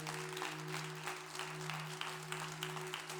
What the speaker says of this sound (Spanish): Ay, dele un aplauso fuerte,